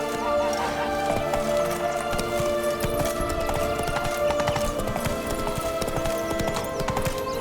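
Horse galloping in The Witcher 3: Wild Hunt, a fast, steady clip-clop of hooves over a dense game soundscape that holds throughout, loud and continuous with no pause.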